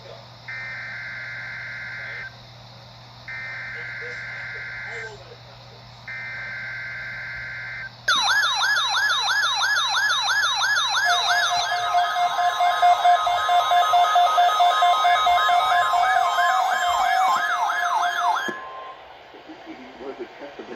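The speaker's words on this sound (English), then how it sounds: "Was a test of the National Weather Service warning alarm tone." A National Weather Service warning alarm tone test broadcast over Pontiac-area weather radio, starting with three long buzzing data bursts, then a loud, steady, warbling dual-pitch alert tone held for about ten seconds before stopping abruptly.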